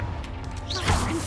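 The Confringo spell is cast in Hogwarts Legacy as a brief magical whoosh with a sharp crackling swish at its peak, close and moderately loud over a low game background.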